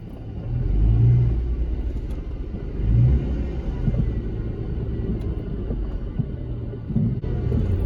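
A V6 Ford Mustang backs up in reverse, its engine giving a low, steady rumble close to the microphone, swelling briefly a few times as the throttle is pressed.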